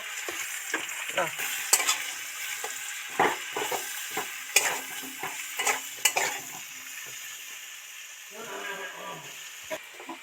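Spices, turmeric and chili powder, sizzle in hot oil for a parshe fish curry, the frying crackling under repeated spatula stirs and scrapes against the pan, close and uneven in rhythm.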